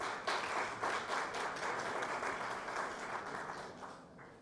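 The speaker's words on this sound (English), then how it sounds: "applaud Radha for inspiring us to do that" An audience at a Women in History Jordan/Canada forum launch applauds, steady clapping heard from across a hall that gradually thins and fades toward the end.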